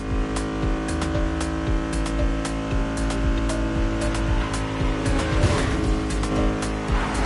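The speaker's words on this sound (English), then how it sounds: "Drifting is the best way to take sharp turns without losing speed" A car drifting through sharp turns in The Crew Motorfest, its engine droning steadily with rising and falling revs and occasional tire squeal, loud and continuous, with no talk.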